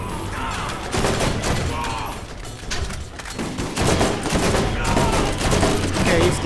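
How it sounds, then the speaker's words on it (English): Turret gunfire in the video game Borderlands: rapid bursts of shots crackle in uneven clusters over a dense backdrop of game noise, loud and close throughout. "I think the shot from the turret is helping a lot."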